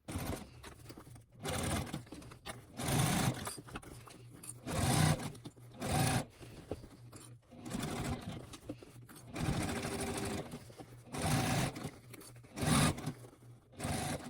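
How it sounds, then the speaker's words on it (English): A sewing machine stitching around the top edge of a quilted Christmas stocking, several bursts of rapid mechanical whirring separated by short pauses, close and moderately loud. "We're just going to stitch around the entire top edge."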